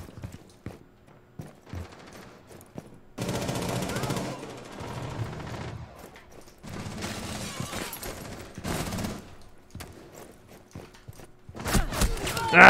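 Gunfire from a shotgun sounds in the shooter video game Rainbow Six Siege during a shotgun-only team deathmatch, with bursts of shots and clatter between quieter gaps.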